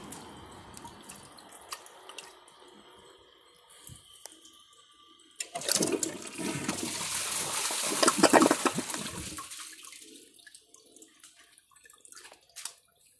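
Kohler Class 5 toilet flushing: a quiet lead-in, then a loud rushing surge of water that swells and roars for several seconds before tapering into gurgling and soft trickles.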